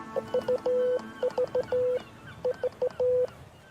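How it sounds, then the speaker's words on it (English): Morse code from a Marconi wireless radio experiment: a clear, steady tone keyed in crisp short and long pulses, repeating in groups over faint background hiss. "And magically out of the ether comes Morse code."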